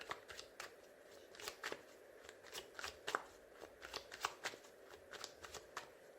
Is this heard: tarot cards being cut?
yes